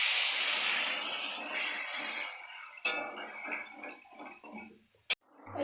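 Water poured into a pot of simmering potato and papaya curry, a strong hiss and sizzle that fades over a few seconds, followed by light clinks of a utensil against the pot.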